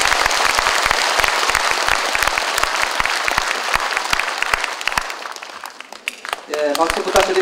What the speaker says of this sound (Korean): 시장님 힘내시라는 뜻으로 다시 한번 큰 박수 부탁드리겠습니다